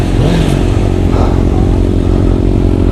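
A Honda CB600F Hornet motorcycle engine running loud and close at a bikers' blessing event, a steady rough idle with a brief rising rev and some mechanical clatter.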